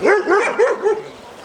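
A dog barks near a Doberman during a social temperament test, several sharp close barks in quick succession, then fading to quieter yips.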